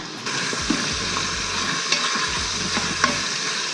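Meat browning in a hot pan for adobo fried rice, a dense continuous sizzle with occasional stirring knocks and a low hum pulsing underneath, close and steady with no talking.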